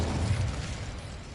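A fire spell cast in Hogwarts Legacy gives a short, low whooshing burst of flame that fades quickly.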